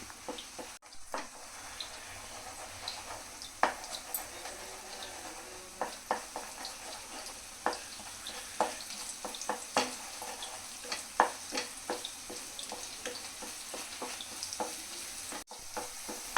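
Egg keema curry stirred in a pan as it fries, a soft steady sizzle with scattered scrapes and clicks of the spoon against the pan, fairly quiet and without talk.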